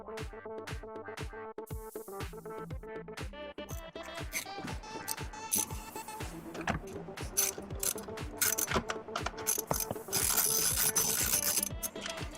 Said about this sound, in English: we're going to use an 8mm and take off the two silver 8mm bolts holding the under